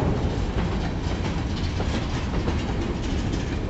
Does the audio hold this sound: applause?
no